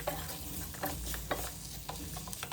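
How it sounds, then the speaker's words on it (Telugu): Boneless chicken pieces tossed with chilli powder in a hot pan, a spatula scraping and clacking at irregular intervals over a steady close sizzle, with no voices. "ఆ చికెన్ వేసేసుకుని బాగా కలిపేసుకోవాలి కారం పట్టేటట్టు."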